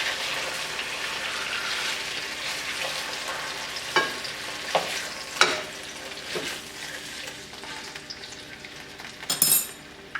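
Pork chops browning in a hot pan give a steady, close frying sizzle throughout, with a few sharper crackles and spits and a brief flare of hissing near the end.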